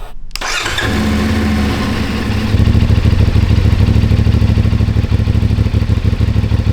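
A CFMOTO 450SS motorcycle engine with a slip-on exhaust cranks and fires up, then settles into a loud, steady, throbbing idle close by.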